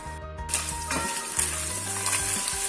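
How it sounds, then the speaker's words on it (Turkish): Beef and sliced onion sauté in melted fat, making a steady, close sizzle with a brief clatter of stirring and a low background hum throughout. "Etimizi de etimizin içine soğanımızı da atalım. Şöyle bir güzel kavuralım önce."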